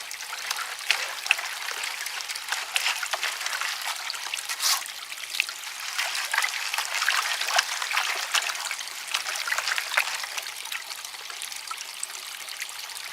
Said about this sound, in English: I'm just going to keep working this pan down.